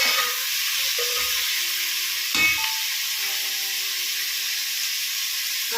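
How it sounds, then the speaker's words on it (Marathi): Tomatoes sizzle in a hot pan while cooking down for a paneer curry, a steady bright frying hiss with a brief louder stir or scrape midway and faint tonal hum underneath. "सांबार टाकल्यानंतर टमाटर टाकून घ्यायचे. याला चांगलं परतून घ्यायचं पुन्हा."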